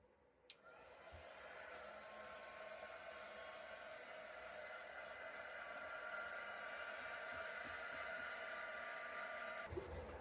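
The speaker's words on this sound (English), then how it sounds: "now I'm just going to hit that with a heat gun quick" A heat gun blows on wet acrylic paint across a long canvas, producing a steady, close, hissing whoosh that runs unbroken for about ten seconds, with soft clicks as it switches on and off.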